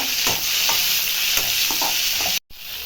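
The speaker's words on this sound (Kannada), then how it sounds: "ಟೊಮೆಟೊ ಇದ್ದೀನಿ ಇದೊಂದು ಐದು ನಿಮಿಷ ಫ್ರೈ ಮಾಡಬೇಕು" Tomato frying with onion, garlic and ginger for a sprouts sambar, a loud close sizzle with repeated scraping spatula strokes, briefly cutting out just before the end.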